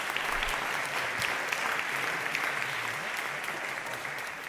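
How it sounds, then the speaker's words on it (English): A large audience claps steadily for children who have just sung in unison at a national birthday celebration, with dense, sustained applause filling the whole stretch at a close, even level. "I think a round of applause goes to them as well"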